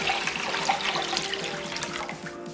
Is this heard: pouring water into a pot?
yes